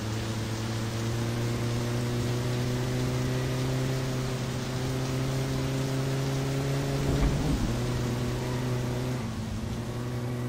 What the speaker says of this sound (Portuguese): É, mas é chuva de verão, ó. Passa rapidão.